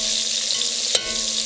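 Onions frying in a pan for wine braised oxtails, a steady bright sizzle with one brief stir or clatter near the end, close and fairly loud.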